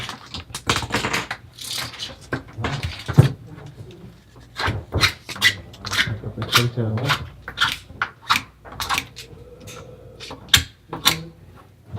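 A plumbing pipe end being beveled by hand with a tool, heard as irregular scraping and rasping strokes with sharp clicks, close up, mixed with bits of talk.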